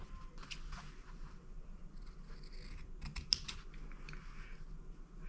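Faint, irregular snipping and scraping of scissors cutting corners off fabric or card, a series of soft clicks up close with no talking.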